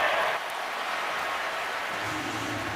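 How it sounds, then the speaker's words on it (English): A stadium crowd of football fans cheers at an NFL game between the Houston Texans and Cincinnati Bengals, a steady broadband roar that stays even throughout with no clear voice standing out. "Fans cheering"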